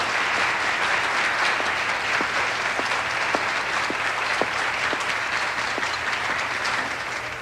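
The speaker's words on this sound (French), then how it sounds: "Et on applaudit toutes nos belles et jeunes concurrentes." Audience at a contest for young female contestants applauds in a steady, even roar of clapping that lasts over seven seconds, with a few distinct nearby claps popping out of the mass.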